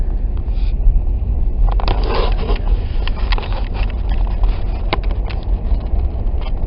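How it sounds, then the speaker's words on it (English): A farm tractor fitted with a blade clears a snowy road in a rural Arkansas area, giving a steady, moderately close engine rumble with scraping texture and some wind noise throughout. "A tractor with a blade is clearing our roads in the Buckeye area"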